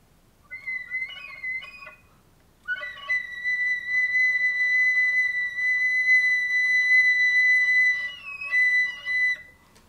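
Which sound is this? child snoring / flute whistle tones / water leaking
flute whistle tones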